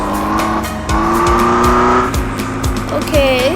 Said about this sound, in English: we're gonna do a 0 to 100 if I can actually get there